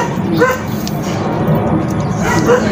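Pet dog giving a couple of short barks and yips amid steady background noise, moderately near, with a voice talking over part of it.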